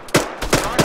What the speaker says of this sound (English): 1-3 is taking RPG fire from the east, northeast, up the hill, near Ural, over